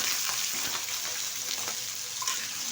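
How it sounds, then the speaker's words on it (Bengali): Potato pieces frying in hot white oil for a vegetarian aloo posto, a steady close crackling sizzle that runs unbroken throughout with no voices. "এবার ভেজে নেব আলুগুলো খুব ভালোভাবে"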